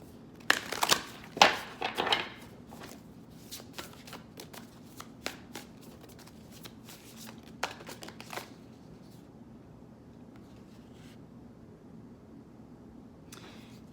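A deck of Angel Wisdom cards is shuffled by hand, with a string of crisp riffling bursts early and softer scattered flicks later, close by and quiet, with no talking.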